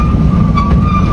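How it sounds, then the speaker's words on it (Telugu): A tourist train in Ooty rumbles past loudly and steadily at close range, with a constant low roar and a faint tonal whine. "ఈ ట్రైన్ ఎంత స్పీడ్ వెళ్తాను తెలుసా?"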